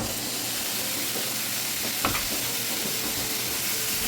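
Tomato puree goes into a hot pan of sizzling masala for an egg masala gravy, a loud even sizzle with a short sharp splash and a few stirring scrapes near the middle.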